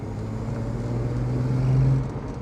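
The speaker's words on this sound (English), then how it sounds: "It is a 6-pot, so it's quite smooth, but it's got that lovely 6-pot sound." Smooth, steady drone of a 1960s Mercedes W108 six-cylinder engine with a stainless steel exhaust, heard from inside at a low, even note that swells slightly, then eases off.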